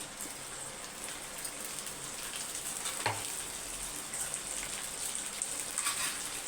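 Vegetables sautéing in an oil-filled pan, with onions and a tomato paste frying in a soft, steady sizzle, close and even throughout, with a faint scrape near the middle.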